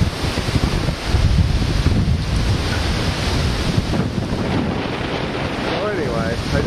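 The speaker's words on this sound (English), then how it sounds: "the waves are breaking through the dock" Waves on Lac Courte Oreilles break against a dock on an extremely windy early-June day, a loud continuous churn of water and surf mixed with heavy wind buffeting the microphone.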